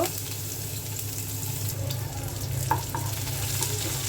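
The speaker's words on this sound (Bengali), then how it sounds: "তেলটা গরম হয়ে গিয়েছে আগে থেকে কেটে রাখা পেঁয়াজ কুচি দিয়ে দিলাম ভাজার জন্য" Chopped onions frying in hot oil in a kadai for a Bengali prawn-with-vegetable-stalks curry, giving a steady, close, even sizzle throughout with a few faint clinks and no talking.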